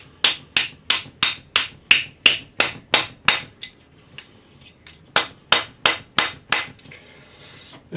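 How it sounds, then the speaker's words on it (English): A rawhide hammer strikes metal over a ring mandrel in a quick, steady series of sharp taps, about seventeen blows with a short pause midway, close and crisp. "then we'll hammer this over our ring mandrel. Use the rawhide hammer."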